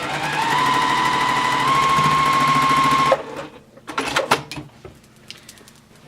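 A sewing machine runs a straight quilt seam in one steady, close, whirring burst lasting about three seconds, then stops, leaving soft handling clicks and taps of fabric being moved.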